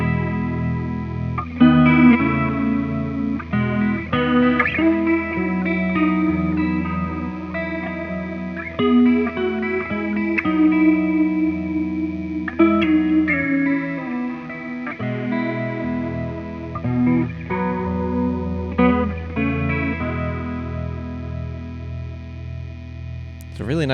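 An electric guitar played through an EarthQuaker Devices Aurelius chorus pedal rings out in chords and melodic lines with a shimmering, wavering modulated tone, loud and continuous.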